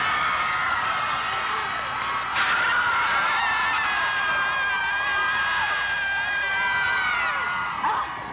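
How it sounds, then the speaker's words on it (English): Students yelling out of open campus windows during finals week make a sustained, distant chorus of screams and whoops that rises and holds for several seconds, with no talk over it. "Everybody takes 10 minutes to open the windows and scream."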